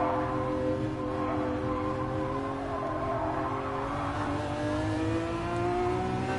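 A big old car's engine revs steadily in GT Sport played on PSVR, a continuous droning hum with rising harmonics throughout, close and fairly loud with faint tire noise, no talking.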